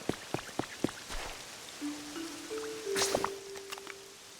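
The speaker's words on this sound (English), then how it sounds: "Running in the rain, trying not to catch hypothermia." Rain patters and drips in the video game Pokopia, with a few sharp drops up front and a thin sustained tone drifting in midway.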